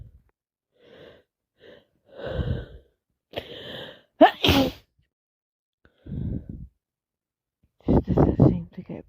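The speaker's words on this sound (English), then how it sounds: "No, I'm really going to sneeze again." Several sneezes and sharp breathy gasps from a person with a head cold, separated by pauses, with a loud explosive burst near the middle and a cluster of bursts at the end.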